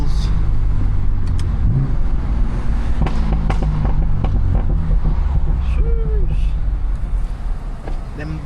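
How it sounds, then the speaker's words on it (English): Exhaust burbles and pops from a BMW F80 M3 with a newly installed mod, heard close and loud on a drive as sharp crackles over a steady engine drone, with a voice talking over it. "Them burbles sound crazy."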